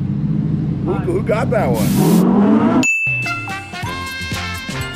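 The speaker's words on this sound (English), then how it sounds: "I'm getting so much wheel spin coming out of the hole." A supercharged Lamborghini launches with wheel spin, its engine roaring loudly up through the revs for a couple of seconds before cutting off abruptly. A chime and brief talking follow as the sound fades.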